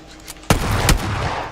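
Shotgun blasts in the battle royale game PUBG: a sharp, loud report followed by a second shot about half a second later, each with a sustained rumbling tail, and no speech.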